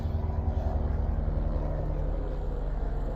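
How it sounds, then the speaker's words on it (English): A helicopter passes overhead beside beehives, a steady low mechanical rumble, continuous and fairly loud throughout with no talking. "Helicopter going over."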